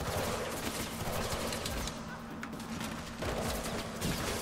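Gunfire fills a Mirror's Edge Catalyst level, with sustained rapid bursts layered over a loud game soundtrack, continuous throughout with brief dips, no talk.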